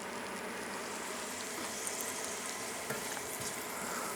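Animal fat rendering in a hot pan for a Bolognese, a steady, faint, even sizzle and crackle with no talking.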